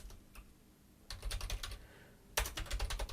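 Keys clack on a computer keyboard as text is entered into Excel cells, a quick burst of close, crisp taps, a pause, then two more flurries of rapid typing with no one speaking.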